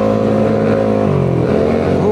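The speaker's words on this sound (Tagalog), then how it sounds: "Grabe yung tambutso niya, no?" A sporty motorcycle with a loud aftermarket exhaust revs close by, giving a steady buzzing drone whose pitch dips and then climbs again.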